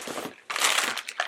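A Jack Link's teriyaki jerky wrapper crinkles and crunches up close in two rough bursts, split by a short lull, with no voice.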